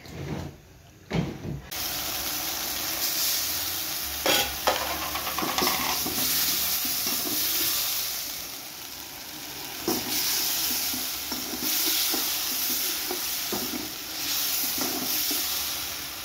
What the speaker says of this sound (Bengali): তো চিকেনটাকে কষিয়ে নিচ্ছি সুন্দর করে, রান্না হচ্ছে।